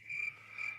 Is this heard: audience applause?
no